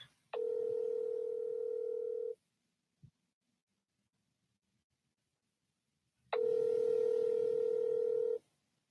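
An unanswered telephone call ringing back through the earpiece, two long steady ring tones about four seconds apart, each lasting roughly two seconds, with a tiny click between them and silence around.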